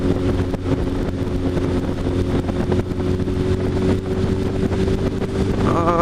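A Suzuki Hayabusa motorcycle rides along with a loud, steady engine drone and heavy wind rush across the microphone throughout.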